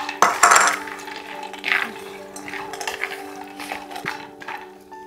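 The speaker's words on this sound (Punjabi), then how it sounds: "ਹੁਣ ਮੈਂ ਨਾਲ ਹੀ ਇਹਦੇ 'ਚ ਕਾਜੂ ਪਾ ਦਾਂਗੀ।" Cashews tipped into a pan of almonds dry-roasting for sugar-free date and fig ladoos: a clattering rush as the nuts land, followed by scattered scraping and rattling as they are stirred around the metal pan.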